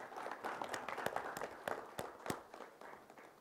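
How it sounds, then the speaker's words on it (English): Scattered, fairly faint applause from a small audience at a corporate panel event in Bangalore, irregular individual claps rather than a dense ovation. "Let's hear some applause,"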